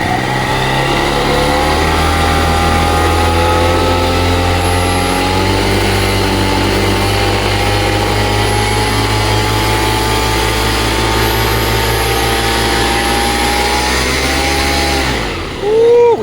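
A 78cc two-stroke ATOM 80 light aircraft engine runs loud and close at a steady high drone with a buzzing tone, then dips briefly near the end.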